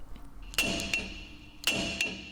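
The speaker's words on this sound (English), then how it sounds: "Use the hammer to strike the steering knuckle boss to loosen and separate it." Four sharp metallic hammer blows ring out on a steel steering knuckle boss of a Jeep Wrangler JK, falling in two quick pairs, each strike leaving a brief bright ring.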